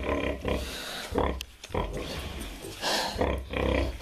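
A Pietrain-Landrace sow grunts repeatedly in a farrowing pen just after giving birth, the low close grunts coming in uneven bursts under someone talking.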